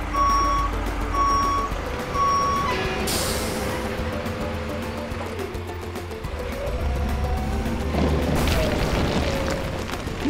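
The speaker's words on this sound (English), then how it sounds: "here comes the dump truck to take away the rocks" A dump truck arrives to haul away rocks at an excavator site, its reversing alarm sounding three evenly spaced beeps, followed by heavy engine rumble and loud thuds and booms, with no talking.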